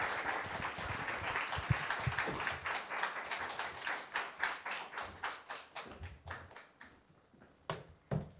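A church congregation claps at an afternoon service to welcome a preacher, loud dense applause that thins into scattered individual claps and fades near the end.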